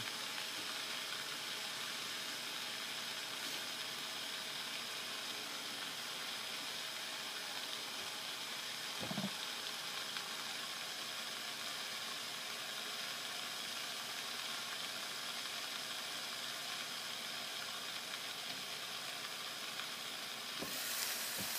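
Pork chops with garlic and onion sizzle steadily in a covered pan, a continuous even frying hiss with a couple of faint clinks, no voices.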